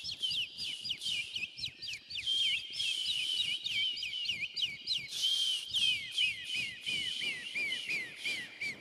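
People whistle together to imitate birds, trading rapid chirping, sliding and trilling calls in quick overlapping bursts, close and fairly loud against a quiet room.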